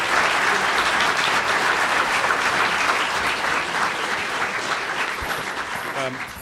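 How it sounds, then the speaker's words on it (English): Sustained applause from a sizable crowd of students and faculty, dense and steady, fading slightly toward the end. "can we get a round of applause for our students and our faculty joining us"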